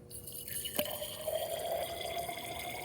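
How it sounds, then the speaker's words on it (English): Water poured into a test tube holding magnesium metal during a chemistry lab, a steady close trickle that rises in pitch as the tube fills, heard alone without talk. "I'm going to put it in test tube number 1, and I'm going to add some water to it."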